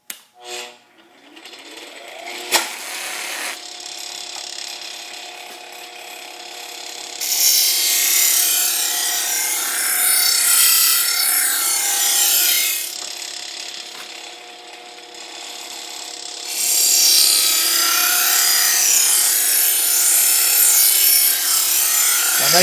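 A bench grinder fitted with a waxed paper grit wheel runs at its lowest speed while a large blade is sharpened against it, giving a steady mechanical whir with two long stretches of harsher, brighter abrasive grinding.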